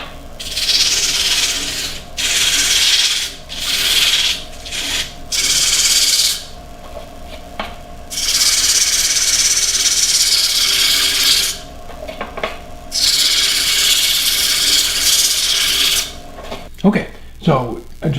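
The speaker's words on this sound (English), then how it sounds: "I'll sand it and then spin it around and just use the same hole" A walnut and copper candle holder is sanded as it spins on a wood lathe, giving a loud, close rasping hiss in several long passes broken by brief pauses, ending with a few sharp knocks and scrapes.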